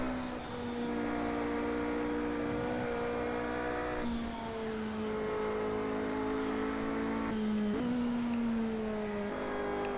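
A high-downforce race car with hybrid boost in Project CARS, its engine droning steadily and loudly as it climbs through the gears, with small pitch drops at each shift and no speech.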